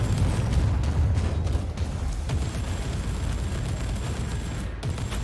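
Frag shells fire in rapid succession in Warhammer 40,000: Inquisitor – Prophecy, a dense, continuous barrage of explosive bursts and booms in battle. The volleys stay loud and overlapping throughout.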